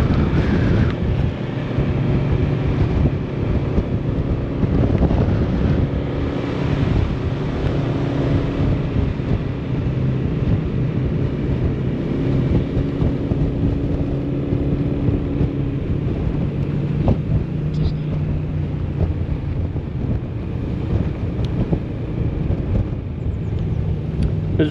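Steady, loud rumbling wind buffets the microphone continuously outdoors in Kaag en Braassem, Netherlands, a dense low roar with no pauses.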